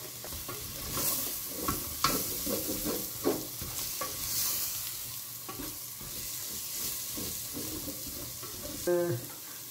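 Flour being stirred in a hot pan on the stove, with soft scraping strokes and a gentle sizzle, fairly quiet and close, with light kitchen clatter near the end.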